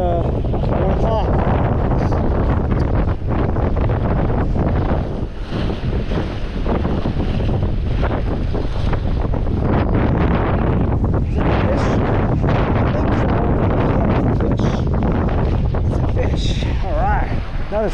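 Relentless heavy wind buffets the microphone during a fishing trip on New Year's Day, a loud continuous rush with gusty swells and no pause throughout.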